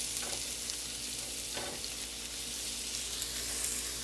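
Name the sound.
sauteing Swiss chard in a pan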